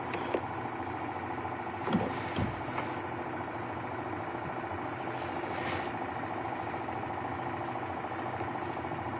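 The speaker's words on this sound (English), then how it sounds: "that sort of thundering noise that has kind of broken the wonder of the evening is a water pump" A water pump runs at a safari game reserve in the evening, a steady, droning engine-like rumble that holds at an even, moderate level throughout, with a few brief knocks near the start.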